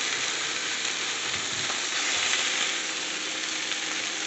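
Chicken pieces brown in a pan on a stovetop, giving a continuous, close, bright sizzle and frying hiss that holds steady throughout with no talking.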